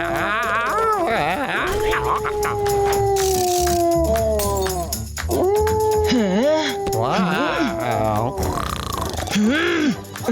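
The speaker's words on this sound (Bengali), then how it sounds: "বাইরে এই কুকুরগুলোর চেঁচানো বন্ধ হয় না" Several dogs howl outside in long, wavering drawn-out cries, loud and near, with whimpers and yips overlapping and a few pauses between howls.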